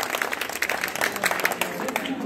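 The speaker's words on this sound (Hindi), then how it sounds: "जोरदार तालियां के लिए" Audience at a quiz contest breaks into a short burst of dense, lively clapping that fills the room.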